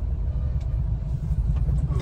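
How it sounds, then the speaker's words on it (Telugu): Heavy road traffic on a highway rumbles as a dense, steady low roar of engines from cars, buses and trucks, loud and continuous, with faint passing sounds above it. "ట్రాఫిక్ ఎక్కువ అయిపోయింది."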